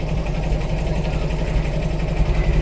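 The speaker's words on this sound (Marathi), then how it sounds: "गाडी ढकल स्टार्ट आहे." A vintage car engine, push-started at a vintage car fiesta, idles close by with a steady, rough low rumble and a slight uneven pulse.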